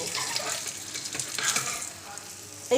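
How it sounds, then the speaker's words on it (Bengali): A puffed rice and egg omelette fries in a pan with a continuous close sizzle and occasional spatula scrapes, briefly fading before a louder bump at the end. "এবার আমি উল্টো দিকে আর এক পিঠ ভেজে নেব।"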